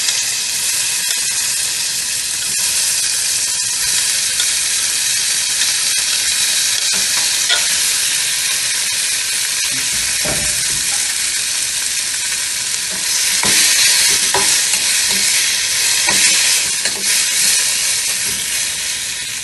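Chopped tomatoes sizzle and fry in a pan for a jackfruit fiber curry, a steady loud hiss with scraping stirring strokes throughout and a brief burst of heavier sizzle near the end, no talking.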